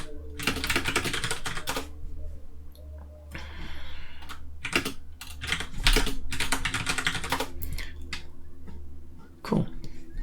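Fast typing on a computer keyboard, dense bursts of close, crisp key clatter separated by short pauses, loud and steady with no talk over it.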